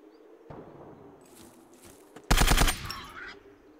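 An AK rifle fires in the Zero Sievert survival shooter, a short loud burst of automatic shots near the end, preceded by quieter footsteps and movement.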